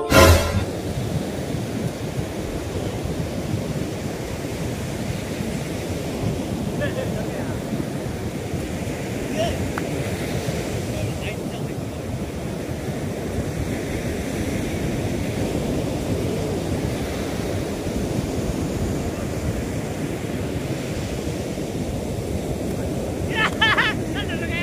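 Sea waves at Mangaluru beach make a continuous low roar of surf, mixed with wind buffeting the microphone and faint voices in the background.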